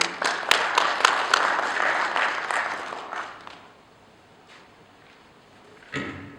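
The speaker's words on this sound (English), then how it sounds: "if we can give the board of directors a round of applause" A room of people at the SAFI 2016 annual general meeting applauds the board of directors: a dense burst of clapping that starts loud, thins over a few seconds and fades out, followed by near quiet with one brief small knock.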